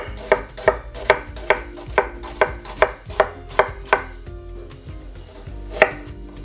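A knife taps out a steady run of sharp chops on a cutting board while thin slices are cut for taco soup, about ten even strokes, close and clear, with a short pause near the end before one last cut.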